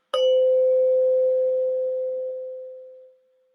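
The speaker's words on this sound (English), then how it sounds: "Stay with sound as long as you can. Just the sound of the bell." A meditation bell is struck once during a guided mindfulness session and rings out as a clear, pure tone that slowly fades into silence over about three seconds.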